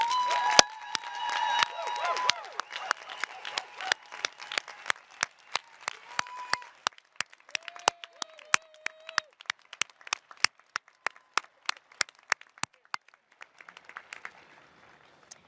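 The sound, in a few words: audience applause for graduates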